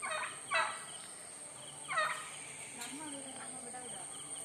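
A bird, apparently a fowl, gives two short rattling gobble-like calls at a flood scene in Kanyakumari, fairly close but faint, with quieter chirps between them and no talk.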